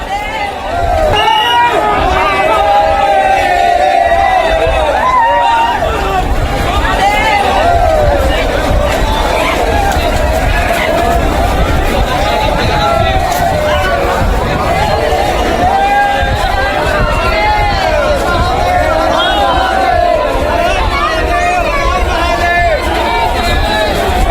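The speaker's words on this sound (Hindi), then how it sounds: "देखिए सोमनाथ मंदिर की भीड़ देखिए जरा, भक्तों की भीड़, भारी हुजूम।" A huge crowd of devotees at Somnath temple produces a dense, continuous babble of many voices and shouts, loud and unbroken throughout.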